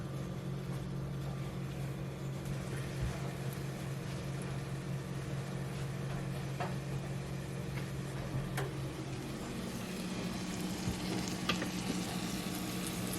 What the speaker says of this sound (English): I have my onions and my butter in the Dutch oven, and the butter is melting, and we are just going to saute